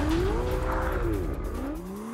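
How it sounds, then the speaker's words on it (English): Ferrari 488 engine at full throttle on a racing lap, its pitch rising and falling through the gears, with a brief tire squeal near the middle. It is loud and close, with no voices. "we've got a bit of a performance benchmark, a Ferrari 488. Take it away."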